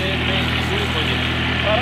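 Engine of a rice planter machine in Pakistan running steadily nearby, a loud, constant droning hum with no pauses, heard for a short stretch.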